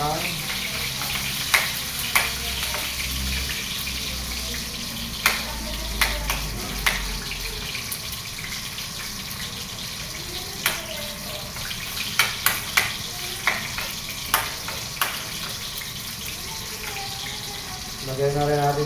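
Garlic frying in a pan gives a steady, close sizzle with scattered sharp clicks and scrapes from stirring, then a louder burst of sizzling near the end.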